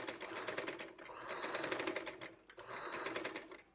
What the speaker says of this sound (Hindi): तो मैं अब सिलाई लगा लेती हूँ